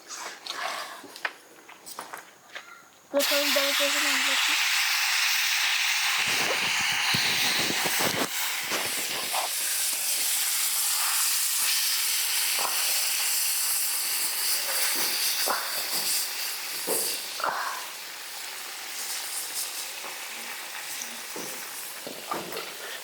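Palm fruit roti batter is poured onto a hot oiled pan and breaks into a loud, sudden, sustained hiss and sizzle that slowly settles, with faint crackles and no talking.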